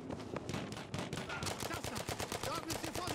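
Rapid gunfire in the Battlefield V video game, with steady bursts of automatic shots close by and overlapping fire beneath faint voices.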